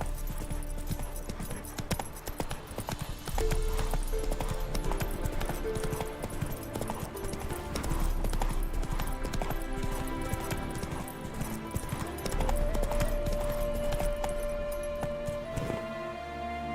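Roach the horse galloping in The Witcher 3: Wild Hunt, a fast rhythmic clip-clop of hooves running on and on under a loud, layered game soundtrack, with no voices.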